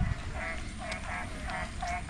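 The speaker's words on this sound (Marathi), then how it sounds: "तुम्हाला ऐकायला येत असेल बेडकांचा आवाज, डराव." Frogs croak after rain outside a traditional tiled-roof house in Konkan during the monsoon, with a steady run of short, repeated calls every half second or so over a constant low background hum.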